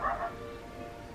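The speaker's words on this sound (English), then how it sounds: "Sorry, my dog." A house dog lets out a single short, faint bark or yip from across a quiet indoor room, then falls silent.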